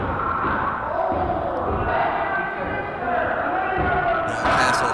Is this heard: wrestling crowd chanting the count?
yes